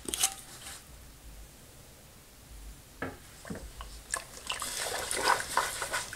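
Soap nut liquid sloshing and splashing through water in a simulated laundry wash, soft wet swishes and drips that build from quiet to a busier, louder churning toward the end.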